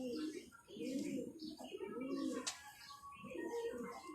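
A pigeon coos in soft, repeated rolling phrases, about four in a loose rhythm, close but faint.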